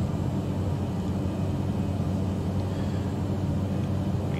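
Small airplane cruising low, about 900 feet above wetland marshes of Africa's Upemba Depression, its engine a steady, loud drone and hum from inside the cabin, unbroken throughout with no talk.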